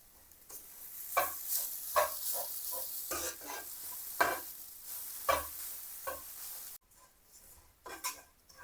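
Grated coconut roasting in a pan: repeated scraping strokes of a stirring spoon over a dry, crackling sizzle, close and fairly quiet, with a steady rhythm and no speech.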